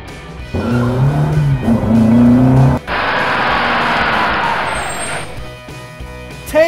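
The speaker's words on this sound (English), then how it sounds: "Rally car!" A rally car engine growls and rises in pitch, then gives way to a loud, sustained screech of tires skidding before it fades out.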